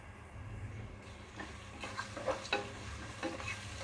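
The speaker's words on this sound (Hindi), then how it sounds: "अब हम प्याज का कलर सुनहरा होने तक इसको फ्राई करेंगे।" Chopped onions fry in hot oil with bay leaves, cinnamon sticks, black cardamom, cloves, black peppercorns and cumin seeds for an egg yakhni pulao, giving a steady low sizzle broken by faint scraping stirs.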